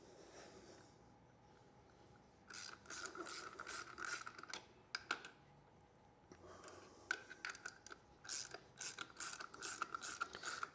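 A carbon steel hand tap cuts a 1/2 inch BSP thread into aluminium plate, giving bursts of sharp ratcheting clicks in quick rhythmic runs, separated by quieter pauses, close and distinct.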